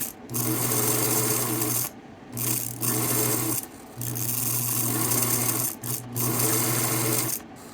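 A Bernina Record sewing machine runs at full speed in four long bursts with brief pauses, a steady whirring hum under rapid mechanical clatter.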